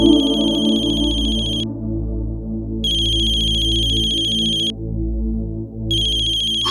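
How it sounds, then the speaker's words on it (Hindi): A mobile phone ringtone plays loudly in repeating bursts of a bright electronic melody, with short gaps of quieter background between rings and no speech. "शान का फोन।"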